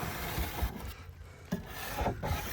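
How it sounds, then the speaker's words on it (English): Scraper rasping fried-on residue off bare metal, a run of rough scraping strokes with short pauses between them, close and moderately loud, no talking. "Now we'll just give it a scrape."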